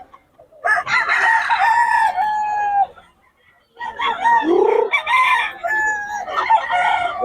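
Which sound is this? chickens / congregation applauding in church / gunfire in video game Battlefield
chickens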